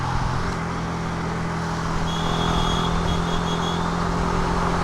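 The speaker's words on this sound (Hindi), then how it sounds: "ट्रैफिक है, ट्रैफिक" Steady road traffic on a two-lane highway near Shimla, heard from inside a moving car, with a constant engine and tyre rumble and faint passing vehicles.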